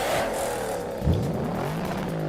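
A Lexus ISF V8 with custom exhaust tips revs once, close by: a steady idle rumble swells into a short, sharp blip near the middle, then falls back to idle.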